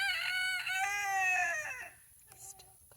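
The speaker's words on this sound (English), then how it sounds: "The rooster is really loud." A rooster crows once, loud and close, a long wavering call that fades out, followed by a short softer squawk.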